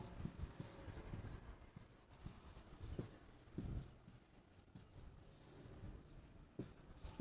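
Chalk or marker scratches and taps on a board during a Hindi chemistry lesson on decomposition reactions, with irregular short strokes and knocks, close and fairly quiet, with no talk heard.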